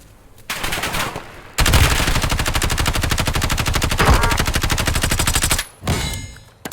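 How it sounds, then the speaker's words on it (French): Sustained automatic gunfire in a battle-royale style video game, a rapid even stream of shots lasting several seconds after a brief opening burst, loud and close with a short gap before more firing. "Je me fais tirer dessus."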